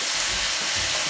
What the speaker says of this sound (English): Oh Lord, the sizzle though.